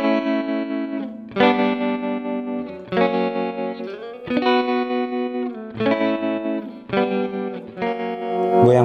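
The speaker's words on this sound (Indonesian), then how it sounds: "Chorus tuh suaranya tuh kayak balsam gini nih, kayak kasih balsam kayak kepanasan tuh." An electric guitar runs through a chorus effect pedal, playing repeated sustained chords with a shimmering, warbling texture and slight distortion, loud and alone without talk.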